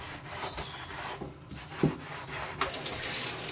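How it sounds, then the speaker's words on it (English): Water runs into a tub while natural branches are rinsed and scrubbed with soap, a steady wash of flow mixed with rubbing and a few knocks, the stream growing louder near the end. "Put your branches in the tub, give them a good rinse, and a good scrubbing with soap and water."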